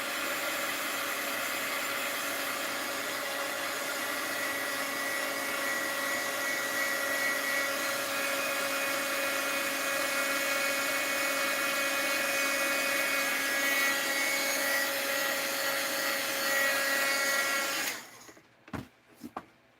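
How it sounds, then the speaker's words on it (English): An old heat gun runs continuously for about eighteen seconds, giving a steady, close whine and rushing airflow, then shuts off, leaving a few faint knocks and handling sounds. "I'm using my old heat gun."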